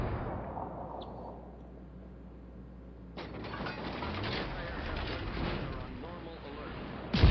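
Naval gunfire from the HMS Plymouth in World of Warships Legends: a steady roar of battle noise that swells into a loud, broad burst of shot sounds partway through, with someone talking over it.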